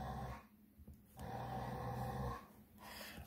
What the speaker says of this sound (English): I got the dogs in the background now.